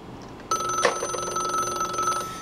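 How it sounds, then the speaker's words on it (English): A landline telephone bursts into ringing after a brief quiet moment, its bright electronic ring holding steady and loud, close by with no talking. "But only the phones that are not going through this are ringing, because this is directly on the line."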